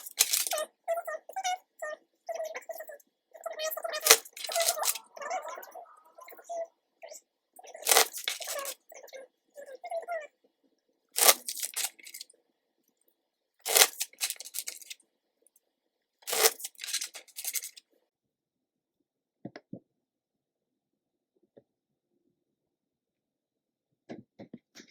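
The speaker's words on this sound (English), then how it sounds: "Just going to shuffle the cards here" Oracle cards shuffled by hand in repeated bursts of riffling and flicking, close and fairly loud, with pauses between, trailing off into near silence with a few faint taps near the end.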